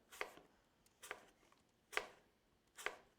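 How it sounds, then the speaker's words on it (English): Knife slicing through stacked apple slices on a cutting board, four evenly spaced crisp chops at close range, quiet, with no talking. "stack the slices, line them up here, and then just cut thinly."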